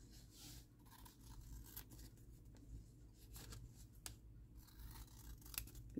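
Scissors snip through paper while making an accordion journal pocket, a quiet, close series of short cutting strokes against faint background hiss.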